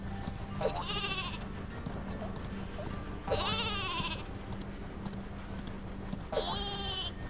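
Exploding sheep weapon in Worms W.M.D, three distinct wavering bleats spaced a few seconds apart over a low constant game hum.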